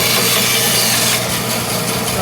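A saw blade cuts through a piece of hardwood being shaped into a hammer handle, producing a loud, steady rasping grind that continues without a break and roughens partway through, with no talking over it.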